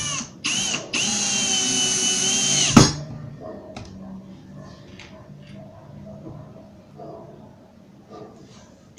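A power drill driving a screw into MDF for modular Tetris-style shelves: a short burst, then a steady high whine for about two seconds ending in a sharp clunk, followed by quiet handling noises.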